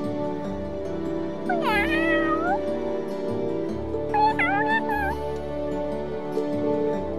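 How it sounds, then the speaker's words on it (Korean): Two drawn-out, rising-and-falling cat meows from the video game Legend of Heroes: Trails of Cold Steel, fairly close and clear over a steady low game music backdrop. "왜 이렇게 고양이 소리가 음란하니?"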